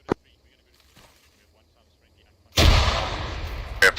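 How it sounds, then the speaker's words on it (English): A grenade explodes in the military simulation game Arma 3, a single heavy blast that bursts in after a quiet stretch and rumbles on, with another sharp crack near the end. "Grenade out."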